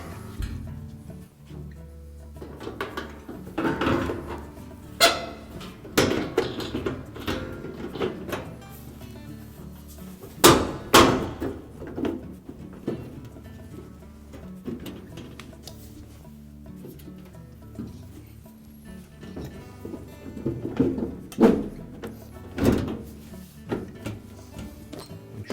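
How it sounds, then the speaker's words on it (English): Plastic and metal clicks, knocks and sliding scrapes as an appliance's main top is fitted onto the three tabs of its control panel, scattered irregular handling sounds at close range with quiet gaps. "Now we're ready to put the main top in place. I want to locate those 3 slots with the 3 tabs on the control"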